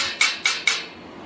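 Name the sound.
flat steel bar hitting a weld to knock off slag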